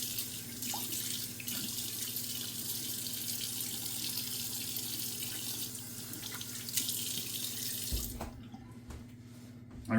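Tap water runs steadily into a sink during a wet shave with a badger brush and razor, a constant close splashing rush that thins out near the end as the flow stops.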